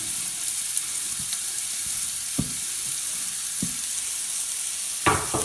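Chili ingredients, scraped from a chopping board, frying in a pan with a steady low sizzle and a few sharp clinks and scrapes of utensils stirring.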